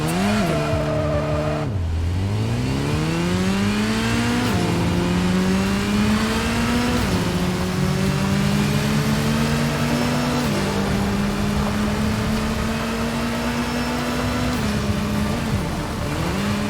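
A motorcycle engine in the video game Gotham Knights revs and shifts through gears, a loud continuous drone dipping sharply once and then climbing in repeated rising pitch sweeps.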